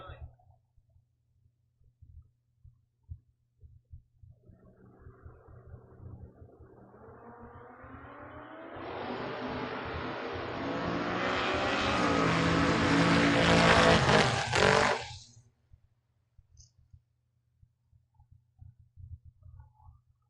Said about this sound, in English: Danny Brown, 611 here, tower side in the Mustang, taking on Mr. Ketterer over in the far lane